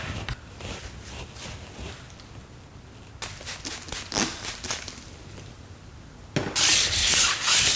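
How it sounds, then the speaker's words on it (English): Fine sandpaper rubs back and forth over a ski's top sheet and sidewall in close, uneven strokes that grow louder and harsher toward the end. "And then I blend it with fine sandpaper to make the top sheet and sidewall ultra smooth."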